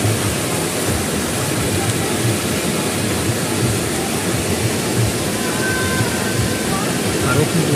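Water flows strongly with a steady, loud rushing roar, an even wash of broadband noise that keeps going without a break.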